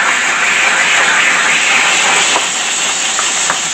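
Steam cleaner releasing a loud, steady hiss of vapour during a restoration job, continuous and close with no pauses, with a couple of faint clicks near the end.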